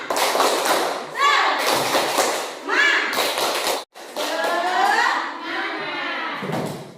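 An Indonesian primary classroom runs through the 'tepuk semangat' clapping routine, with rhythmic bursts of claps and thumps between children's chanted voices, loud and close in a busy room.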